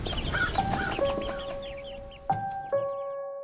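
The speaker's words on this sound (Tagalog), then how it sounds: "Patuloy ang huni ng mga sisiw at uwak sa labas" Chicks chirp outdoors in a quick series of high, short peeps, with a few sustained tones holding underneath and two sharper calls near the end.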